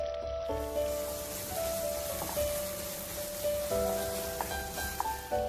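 Curry leaves hitting hot oil with salt and ginger-garlic paste for a mixed vegetable curry, a fairly faint, steady sizzle with a few small pops and clinks, no talk.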